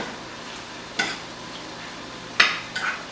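Macaroni and cheese with basil leaves being tossed in a pan over a quiet sizzle, with two or three sharp metallic clinks and scrapes from the pan, close and with no voices.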